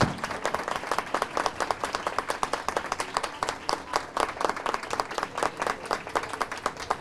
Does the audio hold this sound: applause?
yes